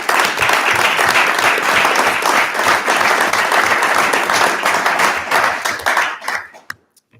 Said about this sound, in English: how about a round of applause for Dan Cohen and our staff?